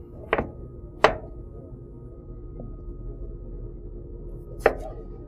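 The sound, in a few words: chopping potatoes with a knife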